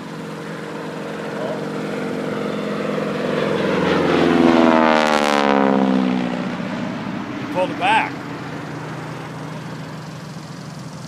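A North American AT-6 Texan propeller airplane roars past nearby, its engine swelling to a loud peak and then fading, with low chatter before and after.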